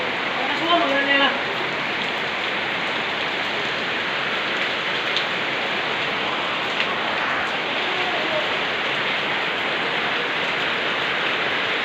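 Heavy rain pours steadily as a dense, constant hiss, with a few brief voices in the background near the start.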